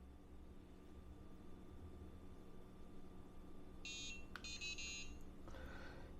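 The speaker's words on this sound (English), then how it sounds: "the biggest thing for me was the buzzer" A Meshtastic mobile node's buzzer gives a few short, faint electronic beeps in quick clusters over a steady background hiss, with no voice present.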